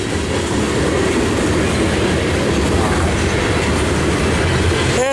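A freight train rumbles past up close, a steady loud roar of wheels and cars with a brief metallic screech near the end.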